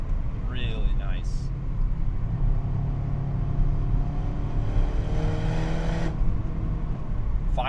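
A 2013 Mini Cooper S Roadster with a six-speed gearbox, engine revving near 5000 RPM on twisty roads, a steady engine drone that climbs toward the end, heard under a person talking.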